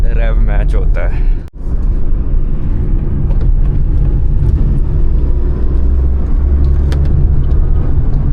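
A Maruti Alto K10 engine revs as it changes gear on narrow Shimla roads, with a short blip at the start and then a steady road drone under ongoing talk.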